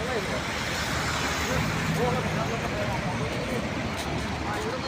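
Heavy, steady traffic noise from a congested road near Laem Chabang in Thailand in the evening, a constant broadband roar of idling and creeping vehicles with a voice speaking over it.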